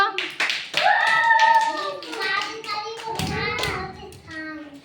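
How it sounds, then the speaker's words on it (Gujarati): Anganwadi preschool children clap together in a classroom for a classmate, a scattered burst of claps mixed with a voice speaking over them. "બધા તાળી પાડો"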